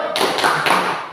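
A classroom of students performs a short rhythmic group clap, a few loud patterned taps in quick succession, close and without talk.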